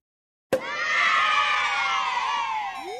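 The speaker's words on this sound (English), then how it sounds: "I want my celebration cheer thing" A canned celebration cheer sound effect bursts in abruptly, a loud, sustained crowd of voices cheering and shouting that stays full for about two and a half seconds, then tails off.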